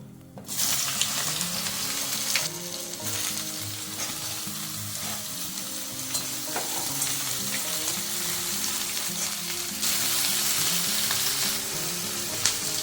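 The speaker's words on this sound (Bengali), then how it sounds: "এবার ওই তেলের উপরে বেগুনটাকে ভেজে নেব।" Brinjal frying in hot oil, a loud continuous sizzle and spatter heard up close, with occasional stirring scrapes and a surge in intensity near the end.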